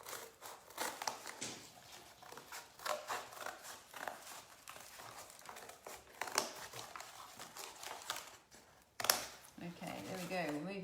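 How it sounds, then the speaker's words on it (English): Scissors snip roughly around the edge of a thick piece of cardboard while making a quirky 3D cardboard creature, giving close, irregular crunching cuts and crinkles, with talking over much of it. "I might have to cut roughly around the edge because this is a lot of cardboard to hold on to"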